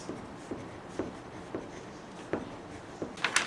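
A marker writes on pattern paper for a dress skirt back block, giving a faint, steady scratchy rub. Regular pen strokes tick roughly every half second, and a brighter burst of scribbling comes at the end.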